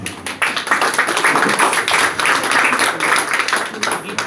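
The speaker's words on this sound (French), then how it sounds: "Merci à vous tous et applaudissez-vous." An audience at a book launch evening in Montreal claps steadily for several seconds, close and fairly loud, with scattered voices mixed into the applause.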